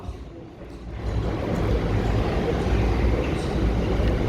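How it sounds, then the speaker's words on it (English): A Gatwick Express train runs through Three Bridges station, a loud broadband rumble that builds after the first second and then holds steady, close and continuous. "It is the Gatwick Express bound to Brighton from London Victoria."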